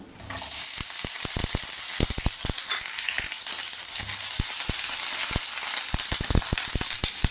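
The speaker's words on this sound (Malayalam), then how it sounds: "ഈ സമയം നമുക്ക് വെണ്ടയ്ക്ക ഒന്ന് വറുത്തെടുക്കണം" Okra frying in a pan for a Kerala fish curry, a loud continuous close sizzle dotted with frequent sharp pops and spatters throughout.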